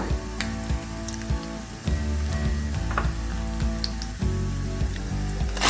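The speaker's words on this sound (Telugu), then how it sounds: "ఆయిల్ కాగిన తర్వాత తిరుమూత గింజలు మరియు కరివేపాకు, వెల్లుల్లి" Tempering seeds, curry leaves and smashed garlic sizzle steadily in hot oil, a loud continuous crackle with rattling bursts throughout.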